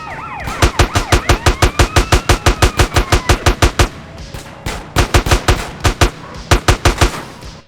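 Rapid bursts of automatic gunfire ring out in GTA San Andreas vehicle combat. They come as loud, evenly spaced shots in two long strings with a brief pause between them, over a faint engine drone.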